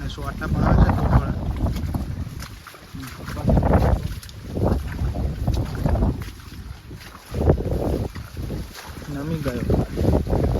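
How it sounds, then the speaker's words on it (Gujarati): Strong wind gusts buffet the microphone over a flooded farm field in rain, surging and easing in heavy irregular bursts, with a voice talking intermittently beneath the roar. "વાયરો છે, ફૂલ વાયરો છે"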